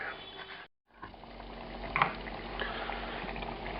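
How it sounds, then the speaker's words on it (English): A pot of Transylvanian pork stew, tochitură, simmering and reducing, gives a soft, steady bubbling with a brief cut in the middle and a small clink partway through, no voices. "This continues to simmer away, and you can see the liquid is reducing"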